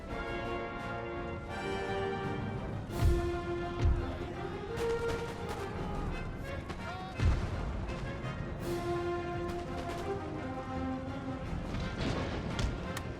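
Cannon artillery fire in the historical strategy battle game Total War: Empire: a few heavy booms land over a steady bed of orchestral music and battle noise, with one pair of blasts close together and another boom following a few seconds later.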